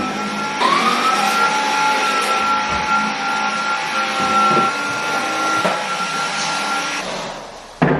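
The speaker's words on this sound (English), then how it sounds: "All downstairs is vaxed, and now I'm going to vac all of upstairs." A household vacuum cleaner running close by with a steady motor whine and airflow roar, broken by a few knocks and bumps as it is pushed around, with no talking.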